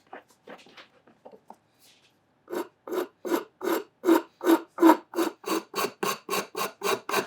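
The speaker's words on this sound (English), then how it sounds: "saw rasp takes off material fast and you don't need to worry about grain direction" A wood rasp files a wooden hammer handle in a steady series of about fifteen rhythmic rasping strokes, close and clear, after a few lighter scrapes at the start.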